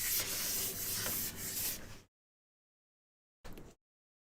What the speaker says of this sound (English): I'm having to scrub really hard to kind of get some of this off